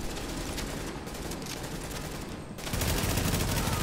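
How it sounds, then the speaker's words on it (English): Dense gunfire in The Division video game, continuous rapid shots with a louder, heavier burst near the end, with no talk over it. "I'm gonna shoot him like that."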